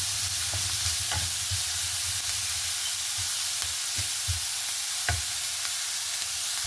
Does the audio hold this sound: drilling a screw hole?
no